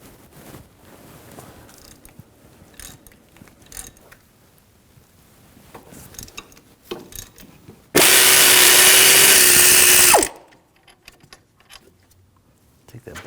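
Under a mechanic's voice and clinking work sounds, a power tool with an M12 triple square socket whirs loudly for about two seconds, spinning out a hub bolt on a 2006-2009 Audi S4 during a front wheel bearing job.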